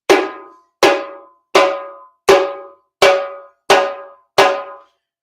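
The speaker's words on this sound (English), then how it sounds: "So the slap sound sounds like this." Slap strokes on a hand drum, seven sharp, bright hits evenly spaced, each decaying quickly into silence, close and alone.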